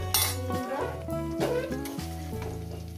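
Potato and pumpkin greens frying in a pan while being stirred by hand, giving a close crackling sizzle with scraping and clinking against the metal as other tonal sounds play over it.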